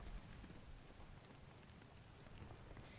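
Steady rain from the video game Return of the Obra Dinn, a soft, even hiss with low rumble that continues quietly throughout, with no speech over it.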